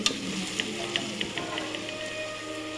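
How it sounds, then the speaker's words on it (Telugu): Masala fries in oil for egg biryani, a soft continuous sizzle broken by regular light scrapes as it is stirred, with no speech. "ఆయిల్ సపరేట్ రావాలి అంతవరకు ఫ్రై చేసుకోవాలి"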